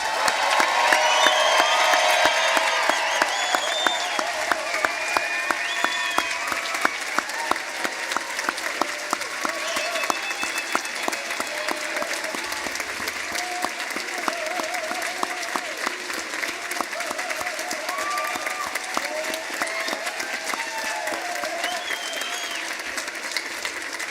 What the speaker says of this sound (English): Please join me again in applauding the achievements of our new graduates.